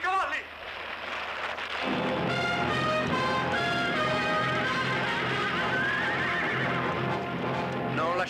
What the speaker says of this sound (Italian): I cavalli!